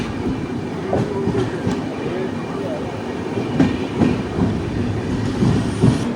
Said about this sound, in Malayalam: തിരുവനന്തപുരം എക്സ്പ്രസ് അങ്ങനെ 8 മിനിറ്റ് ലേറ്റ് ആയിട്ട് ഇവിടെ അനന്തപൂർ എത്തി